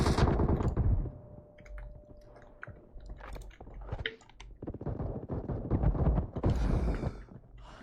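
Rapid bursts of automatic gunfire from the shooter game PUBG Mobile rattle steadily through the clip, loud and continuous with dense clustered shots and no talk.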